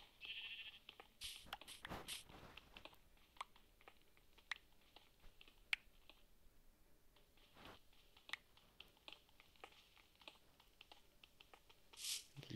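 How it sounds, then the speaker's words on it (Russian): Quiet clicking of keys and taps runs throughout while a sheep in the Minecraft Pocket Edition survival game bleats faintly in the background. "Фу, это овца."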